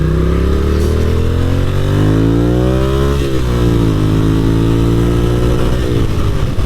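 A motorcycle engine revs hard and steadily while riding through West Seattle toward Alki Beach, pitch climbing and dropping through several gear changes as the clutch is dropped rather than feathered, loud and close throughout with no talk.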